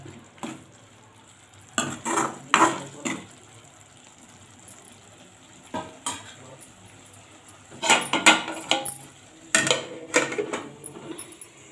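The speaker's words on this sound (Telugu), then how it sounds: "అటు ఇటుగా కొడుగుడ్డని కొద్దిగా కలుపు కదుపుతూ కలపాలన్నమాట" A spoon stirs boiled egg curry in a pan, giving irregular bursts of scraping and clinking against the metal with quiet gaps between, over a faint simmering sizzle.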